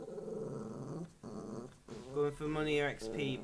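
A pet dog growls low in a room at home, the rumbling mixed in with someone talking over game audio, with breaks and swells through the clip.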